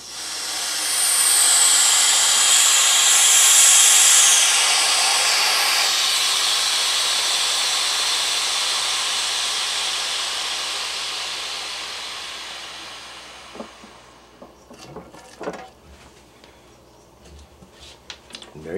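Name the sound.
vacuum chamber drain valve opening, air hissing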